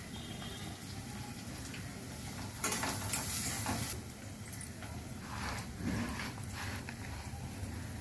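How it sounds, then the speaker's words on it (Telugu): Fish pieces are hand-mixed in a bowl with turmeric and chili powder, a close, wet squelching and rustling that swells briefly louder midway, with no talk. "ఇదిగోండి చేప ముక్కలు దీంట్లో వేసి కొంచెం కారంతో కలిపేసి పక్కన పెట్టుకుంటున్నాను."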